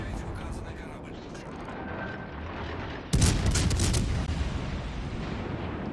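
Naval cruiser guns fire in the World of Warships Legends game, a sudden loud boom at mid-clip that leaves a sustained roar of battle noise, over a steady background din carried through from the start.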